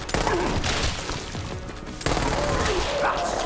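Shotgun fire from Borderlands 3 pounds on almost without pause, dense and loud, with a short break near the middle before the blasts resume. There is no clear speech.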